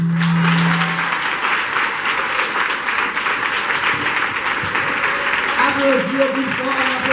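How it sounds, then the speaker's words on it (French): A church congregation at a spiritual gathering claps steadily in a sustained wash of applause while a leader's voice carries over it. "Applaudissez plus"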